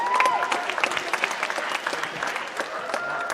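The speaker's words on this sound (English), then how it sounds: "now a round of applause for Emily" Applause from a pageant audience for a contestant, with steady scattered clapping throughout and some faint voices under it, at moderate level.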